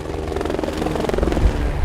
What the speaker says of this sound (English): This may be a medical rescue helicopter.